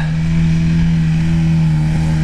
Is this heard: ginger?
no